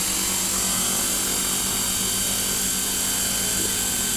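Scale RC helicopter fitted with a DJI Wookong-S controller hovering close by, a loud continuous rotor buzz and high motor whine, steady with no breaks.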